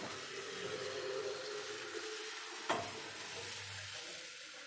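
Batter for patisapta pitha sizzles steadily in an oiled frying pan, a soft continuous hiss with a brief sharp clink near the middle, no talking.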